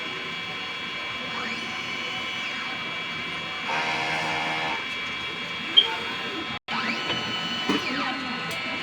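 A DTF printer runs a nozzle check after a head clean, with a steady electronic hum, tonal whines and a sweeping carriage pass in the middle, close and moderately loud with a sharp click near the end.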